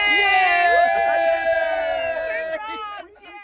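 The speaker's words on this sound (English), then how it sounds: "One big cheer, because we're in France!" A group cheers and whoops loudly on crossing into France, their overlapping voices rising together and then tapering off near the end.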